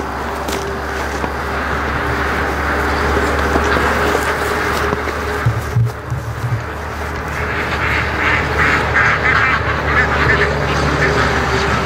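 Ducks quack steadily and loudly nearby through a busy morning rush in a backyard flock, their calls continuous over outdoor noise with no talk.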